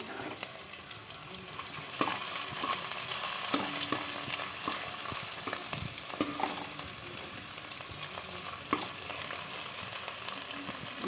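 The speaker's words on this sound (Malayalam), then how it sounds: "വെളുത്തുള്ളി, ചെറിയ ഉള്ളി, പച്ചമുളക്, ഇഞ്ചി ചതച്ചത് മൂപ്പിക്കണം." Crushed garlic, shallots, green chilli and ginger fry in hot oil with a steady, close sizzle, occasional stirring clinks and scrapes breaking through the continuous crackle, no voices.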